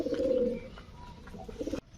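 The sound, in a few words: pair of homing pigeons cooing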